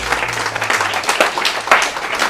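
A church congregation bursts into sustained applause during a worship service, a dense, steady clatter of many hands at moderate loudness that carries on for the whole moment.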